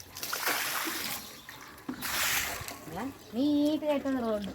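Water is thrown onto a cement floor in front of a house in two rushing splashes, one early and one midway. A voice follows closely afterward.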